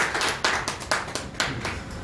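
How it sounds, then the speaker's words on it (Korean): Sparse clapping from a small audience at a seminar marking a free-market institute's third anniversary, a few distinct claps standing out in a short, uneven burst at moderate volume. "세 분께 다시 한번 감사의 박수를 부탁드리겠습니다."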